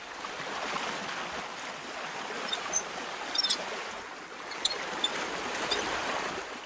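Water pours steadily from an opened sluice gate into the main basin feeding a coastal salt garden, a continuous broad rushing flow heard up close with a few brief splashes and trickles on top.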